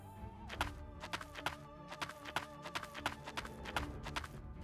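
Horse hooves in the Wild West Dynasty video game clop along in a steady walking rhythm, the repeated sharp thuds close and distinct over a low ambient bed, with no talking.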